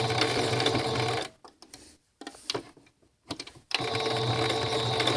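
Sewing machine back stitching a Christmas mug rug, a loud close mechanical whir that stops briefly for soft clicks and short bursts, then runs steadily again.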